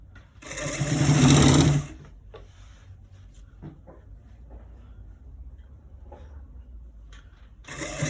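A sewing machine stitches a collar roll straight to the end in one loud burst of about a second, then falls quiet apart from soft handling and rubbing of fabric, with a brief whir returning at the close.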